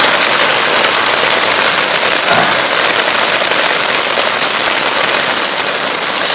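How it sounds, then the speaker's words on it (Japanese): Heavy rain pours onto a Bundok solo dome tent, heard from inside during a night storm at a deserted-island campsite in Wakayama: a dense, steady, loud drumming roar that never lets up. "豪雨中の幕内です。"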